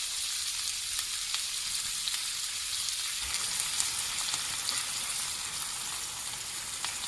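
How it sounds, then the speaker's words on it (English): Purple cabbage sautéing in a pan over medium heat: a steady, soft sizzle and crackle of frying runs throughout, fairly close but not loud, with occasional small pops and no talk. "we're going to let it start to saute on a medium heat"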